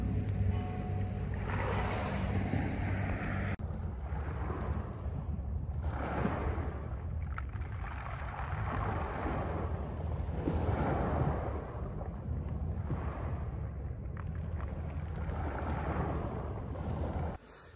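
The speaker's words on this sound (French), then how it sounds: "avec juste le bruit des vagues." Ocean waves wash in steadily with a continuous roar of surf and strong wind buffeting the microphone, no voices present.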